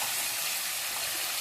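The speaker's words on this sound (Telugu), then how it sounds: "నూనెలో ఈ వంకాయలు కూడా వేసేసామంటే బాగా వేగిపోతాయి" Eggplant (brinjal) pieces fry in hot oil with tempering spices for a tamarind stew, giving a steady, close, even sizzle with no break and no voices.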